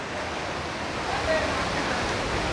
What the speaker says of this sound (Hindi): पानी गिर रहा है काफ़ी ऊपर से, उस झरने में तो नहीं जा सकते हम